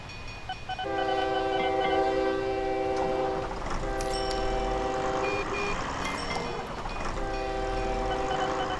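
A train in the railway simulation game OpenTTD pulls into a station, its steady rolling rumble joined by sustained chords of a horn or whistle sounding repeatedly over the noise, loud and without speech.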